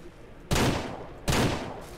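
Two loud gunshots in the game Ranch Simulator, each a sharp close blast followed by a short decaying rumble, spaced under a second apart with no talking.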